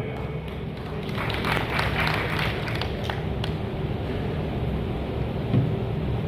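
Audience applause in a town hall in Sumerpur during a police anti-drug awareness talk, a dense, even wash of many hands clapping that holds steady throughout with a faint voice underneath.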